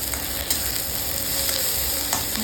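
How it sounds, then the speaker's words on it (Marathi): Coconut, ginger, garlic and onion dry-roast in a pan for black masala, giving a steady close sizzle with light stirring scrapes throughout, no talking. "खोबरं अद्रक लसूण ते होते छान कांदा छान असं काळा भाजून घ्यायचा"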